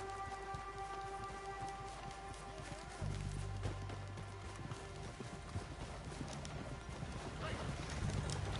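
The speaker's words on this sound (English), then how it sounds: "They just saw horse and carriage." Horse and carriage hooves clip-clop steadily in Red Dead Redemption 2, a continuous rhythmic trot over low rumbling ambience, with voices talking underneath.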